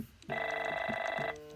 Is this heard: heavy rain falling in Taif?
no